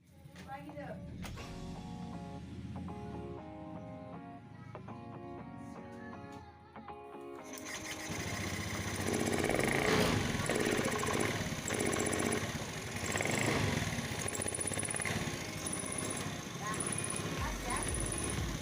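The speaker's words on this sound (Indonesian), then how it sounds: "Mari kita cek langsung ke motornya untuk suara mesin ketika masih ada berbet dan tersendat-sendat." A 2018 Honda Beat FI scooter with a sputtering, hesitating fuel-injected engine runs close by, its uneven idle and faltering revs following a stretch of talk over background music.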